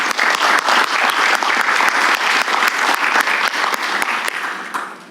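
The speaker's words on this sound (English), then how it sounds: "Please give them an applause." An audience at a conference gives a loud, steady round of applause for a technical support team, dense clapping from many hands that fades out at the end.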